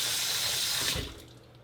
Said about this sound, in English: take your jalapeno, right? You're gonna wash it.